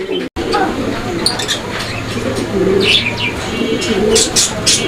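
Irani pigeons coo softly and repeatedly nearby amid rustling and light chirps, with a broad background murmur.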